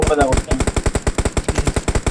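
Automatic gunfire in the mobile battle royale game BGMI, a rapid, loud, evenly spaced burst of shots running continuously, with a player's voice briefly heard at the start.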